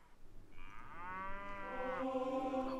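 A cow in the video game Age of Empires 2 gives a single long, rising moo that holds for nearly two seconds, moderately loud and alone.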